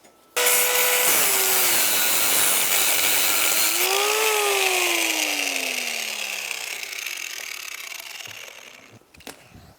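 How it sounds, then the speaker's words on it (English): A cutoff tool slicing through a bolt on a Honda Fourtrax 300 front suspension, a loud close high-pitched grinding whine whose pitch rises and then sags as the disc bites into the metal, running several seconds before stopping. "zing it up here with this cutoff tool a little bit"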